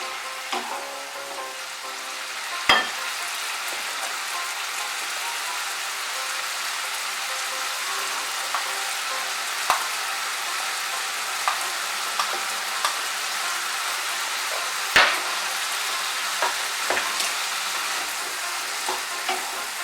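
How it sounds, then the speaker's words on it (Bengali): Green beans frying hard in a hot pan with mustard paste, a loud continuous sizzle that hisses like rain, broken by occasional sharp knocks and scrapes as a spatula stirs through them. "সর্ষে বাটাটা মিশিয়ে নিব ভালো করে সিমের সঙ্গে। মিশিয়ে আমি ভালো করে একটু ভেজে নেব।"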